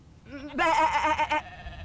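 A sheep in the video game Divinity: Original Sin 2 lets out one loud, wavering bleat lasting under a second, preceded by a softer short call, heard alone and up close.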